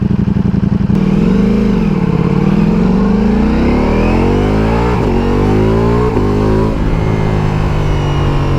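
A Ducati Multistrada motorcycle engine in race mode revs loud and close, pitch climbing steadily through third gear with brief dips at each shift, a continuous mechanical roar with no talking.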